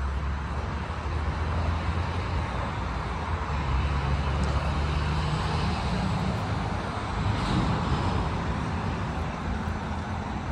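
A tractor that hauls visitors out to the apple trees at a pick-your-own orchard farm gives a steady, low engine rumble that runs unbroken for the whole stretch, with faint background noise.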